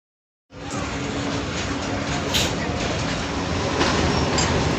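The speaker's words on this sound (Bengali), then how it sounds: "আর তারপরে আমরা ওখান থেকে ট্রেনে করে দীঘাতে যাই।" Riding a passenger train from Sankrail station toward Digha, a steady rolling rumble of wheels and carriage starts abruptly after a brief silence and continues evenly, growing slightly louder, with faint background chatter.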